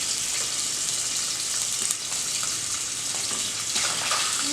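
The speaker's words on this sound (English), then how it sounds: "So I'm going to let this saute for a couple more seconds." Fish sautés in a pan with a steady, dense sizzle that stays even and fairly loud throughout, close up and without talk.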